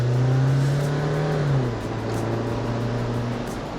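2024 Jeep Wrangler Sahara 4xe with a 2.0-liter four-cylinder engine revving up in a steady droning pull heard from inside the cabin, then dropping pitch on a gear change and carrying on more quietly.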